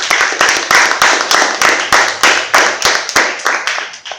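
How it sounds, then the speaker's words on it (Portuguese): A round of applause from a small group during a religious talk on the Rosary, a close, loud burst of rhythmic hand claps in bright, evenly spaced pulses that taper off at the end, with no talking. "Dê uma salva de palmas para essa realidade."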